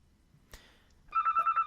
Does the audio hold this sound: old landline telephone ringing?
yes